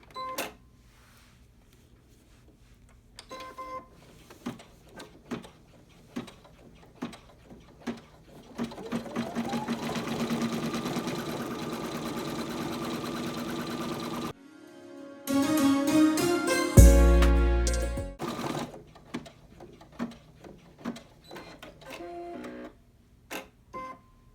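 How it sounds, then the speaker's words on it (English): An embroidery machine stitches a tack-down line on an in-the-hoop bag project, a steady mechanical whirring that starts and stops in bursts, with a louder dense stretch midway and scattered clicks around it, no voices. "now it's going to do the tack down stitch up here"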